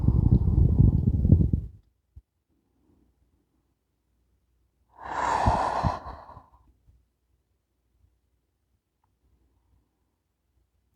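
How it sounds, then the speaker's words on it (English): A person holding a yoga lizard pose lets out two long, audible breaths a few seconds apart, with quiet between them. "Breathing here."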